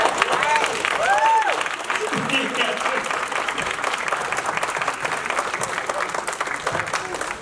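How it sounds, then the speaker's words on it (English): An audience at a community conversation event gives a sustained round of applause for young male panelists, thick steady clapping with voices and a few whoops mixed in above it. "Can we give them another round of applause?"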